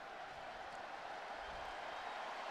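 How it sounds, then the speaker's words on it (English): A football stadium crowd at a Tennessee versus UT-Martin college game keeps up a steady, distant wash of cheering and noise, with no sharp peaks. "And now, of course, the crowd urges them to go."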